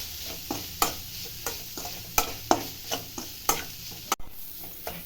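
Masala seasoned with turmeric and salt frying in a pan for a chickpea sundal, with a steady close sizzle broken by regular scraping stirs of a spoon, about one every half second, and no talking.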